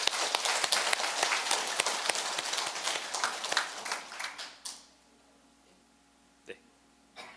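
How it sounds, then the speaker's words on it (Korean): A congregation at a Korean temple service claps together in a full, sustained round of applause that cuts off abruptly, followed by quiet room tone and a single faint knock. "박수 부탁합니다."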